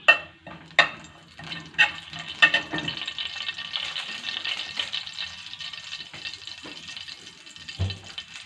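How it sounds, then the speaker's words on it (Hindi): Cumin seeds sizzle and crackle in hot oil, a steady bright frying hiss with a few sharp pops and clinks early on, close and fairly quiet. "ज़ीरे को हम थोड़ा सा ऑयल में तड़का लेंगे"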